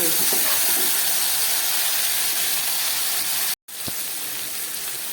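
Chopped onion and a few garlic cloves sizzle steadily in hot oil, a dense continuous hiss that cuts out briefly near the end and resumes as frying continues.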